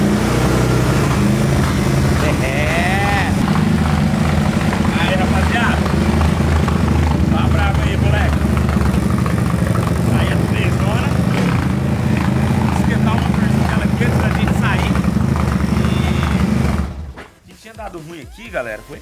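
A cold Honda Today scooter engine runs near and loud on its first start of the day, droning steadily with a voice talking over it, then stopping abruptly near the end.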